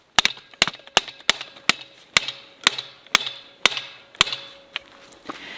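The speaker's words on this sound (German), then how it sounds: "dann werden wir es gleich mit dem Hammer wieder reinklopfen" Sharp metallic hammer strikes from the hammer head of a COMBAR survival multitool, about a dozen evenly spaced ringing blows with short resonant tails, close and loud with no talk.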